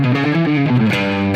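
An accordion with its pedals in front of the bellows plays dry, with no delay or reverb, holding loud sustained notes that step through a short run of pitch changes.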